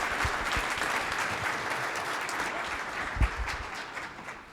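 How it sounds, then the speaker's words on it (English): A conference audience gives a sustained round of applause for a departing speaker, with dense clapping that is strongest at first and slowly thins, plus a few louder individual claps. "Let's give her a round of applause."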